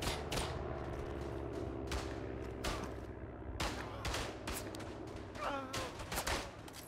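Distant artillery and gunfire in the World War I shooter Verdun, a series of sharp broadband blasts and thumps at irregular intervals over a low rumbling battlefield bed, with brief talk.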